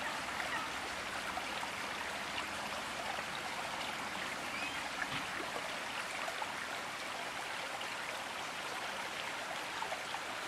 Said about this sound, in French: juste le bruit de l'eau